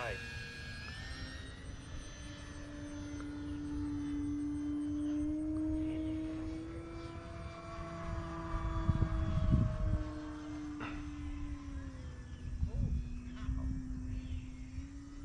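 An E-Flite Pitts S-1S 850mm radio-controlled model biplane flies past with a steady droning electric motor whine that rises and falls as it passes, over faint background noise.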